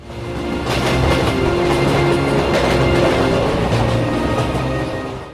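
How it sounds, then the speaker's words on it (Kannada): A speeding train rushes in with a continuous loud rumbling clatter that swells up, holds for several seconds and then eases off, with no voices over it. "ರೈಲು ಮತ್ತಷ್ಟು ವೇಗದಲ್ಲಿ ಧಡ್ಭಟ್ ಶಬ್ದ ಮಾಡುತ್ತಾ ಅವನ ಬಳಿ ಬರುತ್ತಿತ್ತು"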